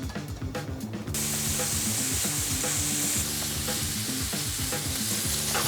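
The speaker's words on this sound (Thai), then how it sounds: "เดี๋ยวจะเจียวไปเรื่อยจนเบคอนมันกรอบนะครับ" Steady, dense sizzling of bacon frying in a hot pan, crackling continuously and loud throughout, with a few faint clinks near the start.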